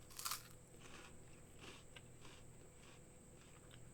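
Crisp, close crunching as someone bites and chews a light, airy cocoa puffed-rice snack from Taiwan, a sharp bite at the start followed by quieter, irregular chewing crunches.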